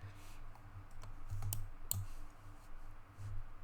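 A computer mouse double-clicks twice in close succession against a quiet room hum, faint and close, while working in After Effects software.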